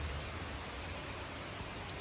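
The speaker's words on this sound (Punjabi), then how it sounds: "ਕਿਦਾਂ ਮੀਂਹ ਹੋਣ ਡਿਆ" Rain falls on tin roof sheets, a steady, faint broadband hiss of drops that continues unbroken throughout with no voices.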